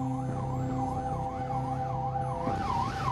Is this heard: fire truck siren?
yes